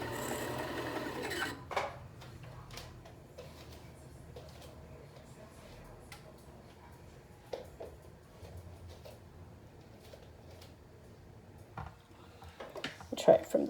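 A sewing machine winds thread onto a bobbin with a steady low whir and scattered ticks. A voice talks over it and the machine speeds up near the end.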